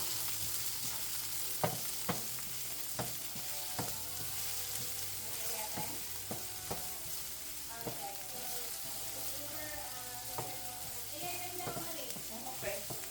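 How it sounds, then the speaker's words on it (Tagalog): Onions sizzle and fry in a pan, a soft steady crackle broken by repeated clicks and scrapes of stirring, fairly quiet and close, with a faint voice in the background. "At sunod na natin yung sibuyas. Isahin natin ng mga ilang minuto hanggang sa maging translucent siya."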